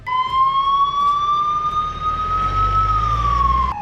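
An ambulance siren wails loudly in a village as one long, slowly rising and falling tone, close by, over low traffic rumble.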